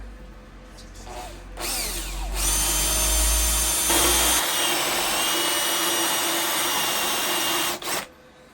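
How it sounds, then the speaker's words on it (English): A power drill spins up and grinds steadily into rusty metal for several seconds, a loud whining drone that cuts off abruptly near the end. "so we've drilled that out."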